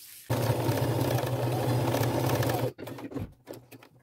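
A domestic sewing machine runs steadily for over two seconds, stitching a seam along an old coat being upcycled, then stops abruptly, followed by faint handling noises.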